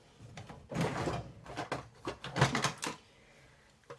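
A drawer pulled open at home, a series of close wooden knocks and sliding rattles over a few seconds, loud and without speech.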